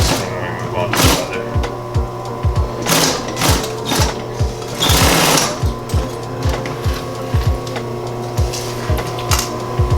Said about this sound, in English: I'm just going to ease this in as I'm sewing